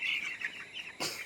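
Poultry chickens on a farm give short clucking calls close by, a couple of quick vocalisations followed by a sharper call near the end.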